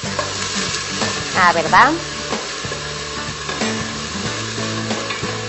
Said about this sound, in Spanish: Y también el ajo y vamos a dejar que dore como yo.